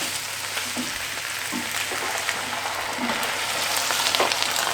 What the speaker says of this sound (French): On va mettre le vin blanc.